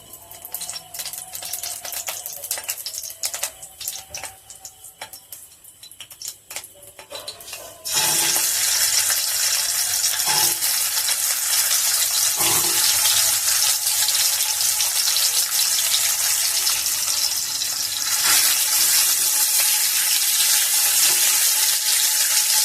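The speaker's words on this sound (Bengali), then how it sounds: "এবার আমি কড়াই তেল দিয়েছি, তেলটা গরম হয়ে গেছে, ডিমগুলো ভেজে নেব" Boiled eggs coated in salt and turmeric fry in hot oil in a wok, a loud steady sizzle that erupts after a quieter opening and holds continuously, with a few faint knocks of utensils.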